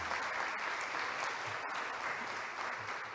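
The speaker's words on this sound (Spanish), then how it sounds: "Un fuerte aplauso, doña Karen." Steady, dense applause from an audience at an international cultural symposium, continuous and fairly soft throughout, with one brief dip partway through.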